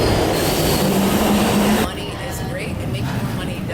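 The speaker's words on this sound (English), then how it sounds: "my train is coming." Subway or rail train pulling into a station, with loud rumbling, wheel squeal and rattling carriages that drop off sharply partway, leaving quieter platform rumble and faint voices.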